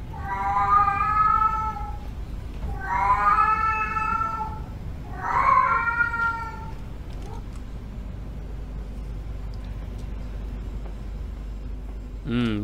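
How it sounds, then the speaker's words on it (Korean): Cats fighting in a video game, three drawn-out yowls in a row followed by quieter murmuring over a low steady background hum, with a brief sharp sound at the very end. "이제 고양이들끼리 싸우는 것 같아요"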